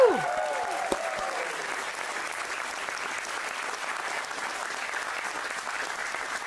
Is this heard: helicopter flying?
no